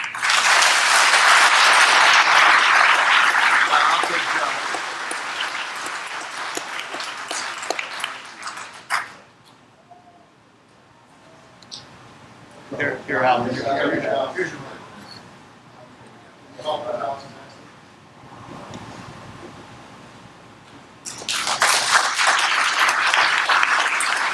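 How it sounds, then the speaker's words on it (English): Round of applause from an audience at a 2019 awards ceremony, a loud sustained burst at the start that fades out, then returning loudly at the end, with quieter murmuring and brief sounds in between. "I'd like for you please to give them a big round of applause."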